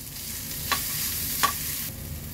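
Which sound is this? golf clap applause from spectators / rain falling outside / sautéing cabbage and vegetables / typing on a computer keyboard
sautéing cabbage and vegetables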